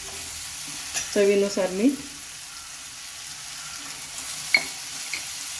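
Ridge gourd being sautéed and stirred in spice masala in a pan: a quiet low sizzle with a brief burst of stirring and scraping near the start and a sharp tap later, with a short spoken phrase.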